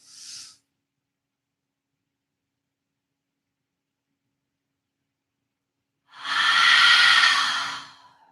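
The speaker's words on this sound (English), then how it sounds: "Inhale." A long, deep inhale during yoga, close and breathy, rising and holding for about two seconds after a long silence, with a brief breath at the very start.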